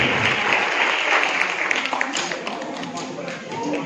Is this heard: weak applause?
yes